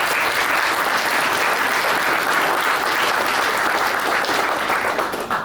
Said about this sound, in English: quick round of applause for doing so